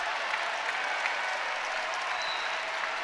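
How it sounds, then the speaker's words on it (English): A volleyball crowd roars at the Devaney Center arena during a Nebraska match, a dense, steady wash of cheering and clapping that holds at full volume throughout. "Some added noise from the crowd here at Devaney."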